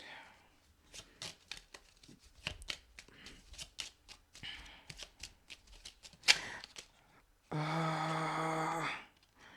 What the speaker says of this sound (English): I'm going to pull a starseed wisdom card to end us out.